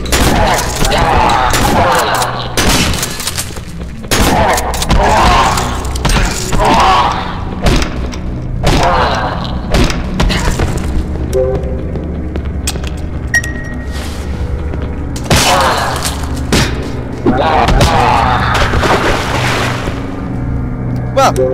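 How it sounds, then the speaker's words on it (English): A shotgun in the horror game Cry of Fear fires in loud, heavy blasts, repeated in bursts over about twenty seconds, with booming thuds and rumbling game noise in between. "I could definitely say that the shotgun worked"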